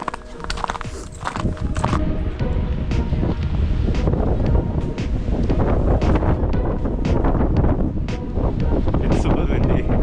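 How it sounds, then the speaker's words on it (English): Strong wind gusts buffet the microphone beside frozen Bear Lake in Rocky Mountain National Park in winter, a loud, continuous roar that swells and surges throughout, with faint crunching footsteps beneath. "It's super windy."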